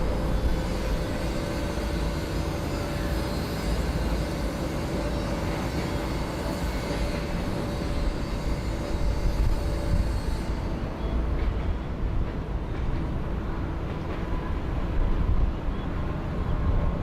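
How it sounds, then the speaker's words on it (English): A China Airlines Dynasty A380 airliner taxiing at Bangkok airport gives a steady, distant jet engine rumble and whine that holds level throughout, with no talk. "follow the Dynasty A380 down Taxiway Hotel."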